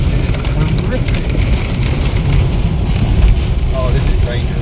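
Heavy storm rain pounds a moving car fitted with new Falcon tyres ahead of Storm Aowen. It is a loud, steady, dense wash of drumming water and road noise that lasts throughout.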